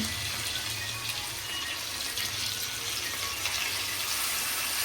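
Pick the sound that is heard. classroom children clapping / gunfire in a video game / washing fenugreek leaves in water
washing fenugreek leaves in water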